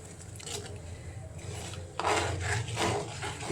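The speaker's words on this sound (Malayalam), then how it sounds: "നമുക്ക് നന്നായിട്ട് ഇളക്കി കൊടുക്കാം, അല്ലെങ്കിൽ പെട്ടെന്ന് അടുക്കി പിടിക്കും" A spoon scrapes and rubs steadily through jaggery melting in ghee in a pan, soft rasping strokes that grow busier and louder in the second half.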